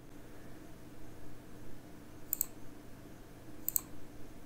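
Two quick pairs of mouse clicks during work in COMSOL simulation software, sharp and faint over a steady low hiss, around the middle and near the end.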